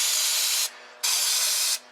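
Carb cleaner sprayed onto the linkage of a 1964 Ford Thunderbird convertible: two loud, close aerosol bursts of hiss, the first about half a second and the second a bit longer, with a short pause between them.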